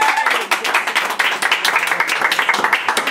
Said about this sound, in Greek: Και θέλω ένα δυνατό χειροκρότημα για τον Μπυρμπύλη!